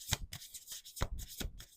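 A deck of oracle cards is shuffled by hand, several short crisp riffling bursts separated by brief pauses, close and fairly soft.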